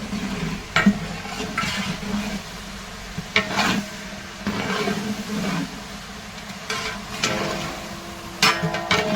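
Salted onions fry in a pan while being tempered, giving a steady close sizzle broken by repeated bursts of stirring and scraping at irregular intervals.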